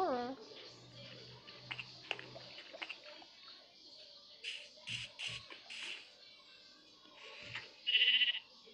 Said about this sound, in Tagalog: Kambing na puti.